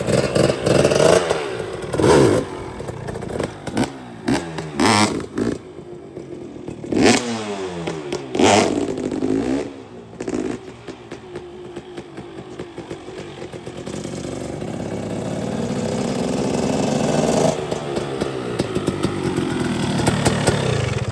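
A 2-stroke dirt bike engine revs hard and drops back repeatedly while a rider practises clutch up wheelies, loud raspy bursts with clutch-slip surges, then a steadier rising drone in the second half, no voices.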